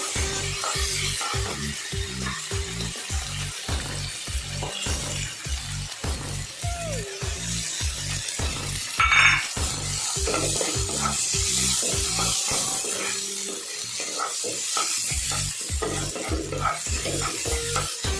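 Rice frying in a pan for kheer, a spoon stirring it in a steady repeating scrape over a constant soft sizzle, close and clear with no talk.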